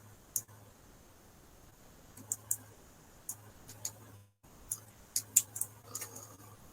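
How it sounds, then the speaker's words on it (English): Small scissors snip close by trimming craft crab pieces, scattered sharp clicks, some in quick pairs, over a faint low hum with no talking. "you can get your scissors and just trim them a little"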